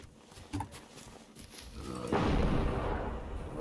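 Explosions in the video game Generation Zero, a chain of blasts from a robot dog, a barrel and a tractor: a loud, sustained broadband roar that rises and rumbles after a few sharp pops.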